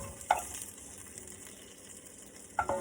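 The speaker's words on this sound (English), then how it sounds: "put a 1/4 cup of butter back in my skillet here and saute the onions and the" Onions and garlic sautéing in butter in a skillet, with a soft steady sizzle and two brief sharp clinks of a utensil against the pan.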